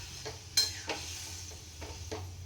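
A pan of Bengali bata fish curry, with water just added, gives off a soft steady sizzle, broken by a few distinct stirring scrapes and clinks.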